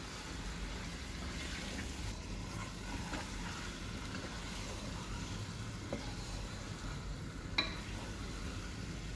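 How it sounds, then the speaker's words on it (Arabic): Garlic slices sautéing with cumin, turmeric, salt and pepper in a pan, a steady faint hiss of frying, a couple of brief utensil clicks near the end, no talking. "والكمون والكركم وثلاث فصوص توم متقطعين كده ايه زي ما انتوا شايفين شرايح، وهنشوحهم بقى مع بعض"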